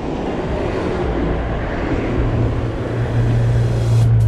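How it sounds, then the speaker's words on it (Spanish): Heavy street traffic on the roads of Guadalajara, heard from a BMX rider, forms a loud, continuous rumble of engines and tyres that swells slightly toward the end. "El tráfico pesado como siempre en Guadalajara"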